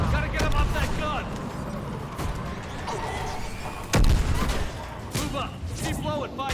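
A mounted gun fires in Mass Effect 3 Legendary Edition on PC as a dense, continuous roar of heavy gunfire and booms, with one sharper blast partway through. Shouting voices carry over the battle.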